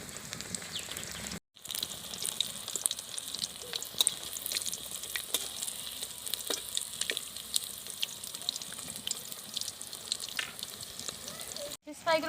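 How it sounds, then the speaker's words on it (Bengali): Large river pangas fish fry pieces crackle in hot oil, a faint continuous sizzle with scattered pops that runs alone for most of the stretch, broken by two brief gaps. "ফিশ ফ্রাইগুলো আমি খুব ভালো করে ভেজে নেবো,"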